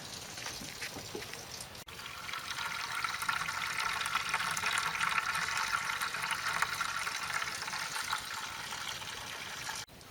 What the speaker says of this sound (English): getting ready to drain into my fermenter. I'm going to drain into that hop screen